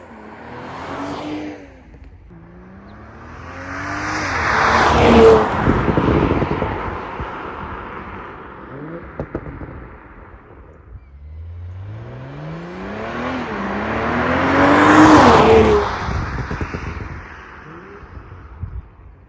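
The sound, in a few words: 2020 Toyota Supra with PCW modified exhaust driving by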